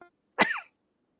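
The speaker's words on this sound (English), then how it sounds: "Well, I'm coughing" A single short, close cough bursts out once, brief and fairly quiet, with silence around it.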